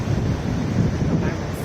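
Surf rolling in at Paris Beach in Denmark, Western Australia, a steady broadband wash of breaking waves with wind buffeting the microphone throughout.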